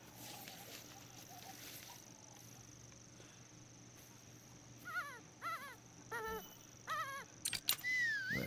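A hunting dog in the video game theHunter: Call of the Wild whimpers in a series of short, rising and falling whines, several close together, over a steady hum of outdoor game ambience.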